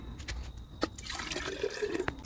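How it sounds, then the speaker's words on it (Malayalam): Water pours and gurgles into a jar of star fruit pickle, rising as it fills, with a few sharp knocks of the vessel. "അപ്പോൾ ഇനി നമുക്ക് എന്തായാലും വെള്ളം ഒഴിക്കാം"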